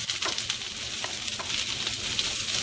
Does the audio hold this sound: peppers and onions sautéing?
yes